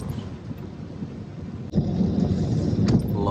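Thunder rumbles during heavy rain in Madina, a low steady downpour hiss broken by a sudden loud thunderclap that swells into a deep rolling rumble.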